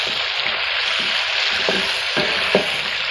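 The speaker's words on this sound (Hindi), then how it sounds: "और इसको मैं 3-4 मिनट तक फ्राई कर लूँगी" Bay leaves, cinnamon and black cardamom fry in ghee for an aloo gosht base, giving a steady close sizzle with a few light clinks and stirs.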